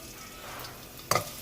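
Chopped garlic hits hot oil over a low flame, giving a brief, sharp sizzle burst after a quiet stretch of low background hum, then fading quickly.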